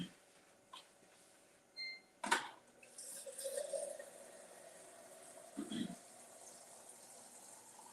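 A kitchen tap runs water into a container to be poured into a blender, a soft steady stream after a couple of clacks and a sharp knock, with quiet background hiss and no talking.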